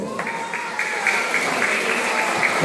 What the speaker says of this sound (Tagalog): bigyan muna natin ng 10 bagsak na palakpak ang Nuevo Noto